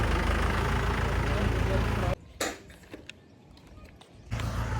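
A tractor engine runs with a loud, steady broadband rumble for about two seconds, then cuts to near quiet with a few faint knocks before the noise returns.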